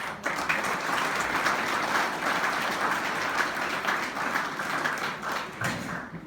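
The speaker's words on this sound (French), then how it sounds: "Applaudissez s'il vous plaît, Christophe." An audience at a French-language debate between the sides of Henri Christophe and Alexandre Pétion breaks into steady applause. Many hands clap for about six seconds with a lively, uneven patter and brief individual claps standing out, with no voices.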